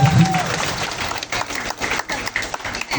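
An audience at a Hindu community gathering bursts into clapping, a dense steady applause lasting about three seconds with a voice briefly heard at the start.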